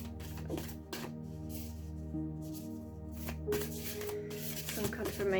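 Oracle cards being shuffled by hand: soft, close rustling and riffling flurries in irregular bursts over a steady low background hum, with no talk.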